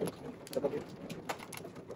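Soft cooing of pigeons or doves amid a busy outdoor background, a few low murmuring calls rising and falling over steady ambient noise.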